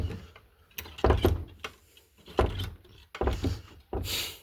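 A puppy knocks over a trash bin indoors, giving several scattered bangs, knocks and rattles of the bin against the floor, fairly close, with quiet gaps between them.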